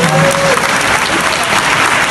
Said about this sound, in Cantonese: 俾啲掌聲佢好